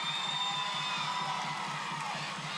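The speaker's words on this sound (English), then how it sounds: "Jessie Peshek getting a roaring applause from the crowd." A crowd at a college gymnastics meet against Western Michigan University roars steadily with cheering and shouts for a gymnast, a loud sustained wash of voices in an arena.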